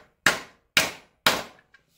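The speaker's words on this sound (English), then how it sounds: "And then we'll come in with a ball peen hammer to make it flush" A ball peen hammer strikes a part of a Sheldon lathe quick change gearbox during reassembly: three sharp, evenly spaced metallic blows, each ringing and fading quickly, close and alone, with a faint tick after.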